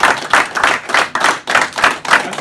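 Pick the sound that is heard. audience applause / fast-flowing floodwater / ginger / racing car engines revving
audience applause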